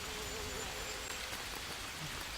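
Rain falls steadily in the survival game Green Hell, a dense, even hiss of drops with no break across the short stretch and no voices over it.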